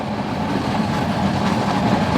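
An old Veraval–Junagadh passenger train arriving near Sasan Gir, a steady loud rumble of rolling wagons with faint clickety-clack, continuous throughout without speech.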